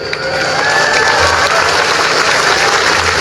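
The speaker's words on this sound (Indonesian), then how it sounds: "Tepuk tangan semuanya, keren." A large crowd at an Indonesian public gathering bursts into loud, sustained applause mixed with cheering and shouts, the clapping dense and close throughout.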